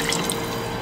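Water, one cup, poured into a vegan chicken soup pot, heard as a steady close splashing trickle throughout a brief moment.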